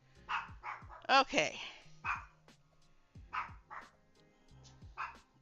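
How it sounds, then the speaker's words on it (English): A service dog barks repeatedly nearby in a home, sharp yips and barks coming in uneven bursts, with a brief spoken word in between. "she just went behind the couch so she could bark and do it in peace without looking at me"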